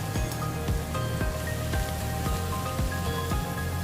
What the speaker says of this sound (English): Next you add capsicum and carrot. And saute them for 30 seconds.